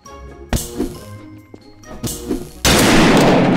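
Gunshots in the Garry's Mod DarkRP game: a few sharp, loud single cracks spaced apart, followed by a dense burst of harsh noise at the end.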